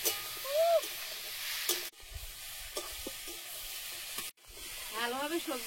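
Vegetables being sautéed for a dried fish curry with eggplant and potato, a quiet steady sizzle close by, broken by a couple of abrupt cuts, with short voice-like sounds over it.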